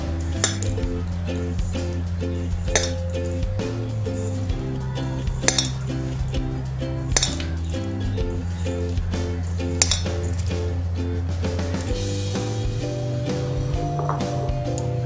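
Atta being stirred with heated oil in a metal bowl for sweet jaggery puris, repeated clinks and scrapes of a spoon against the bowl in a steady rhythm, close and moderately loud.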